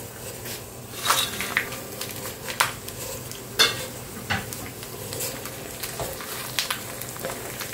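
A vegetarian potato dish cooks in a nonstick wok with little oil, under a low sizzle and spaced scraping strokes and clatters of a spoon against the pan.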